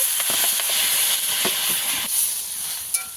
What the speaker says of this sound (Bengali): সামান্য একটু জল দিয়ে জল দিয়ে দেব